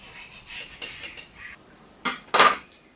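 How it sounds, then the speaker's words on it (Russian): A few soft knife taps on a board while cutting dough into thin strips, then two sharp, louder cuts or clacks near the end, close and distinct. "Сейчас его нарежу тонко-тонко соломкой."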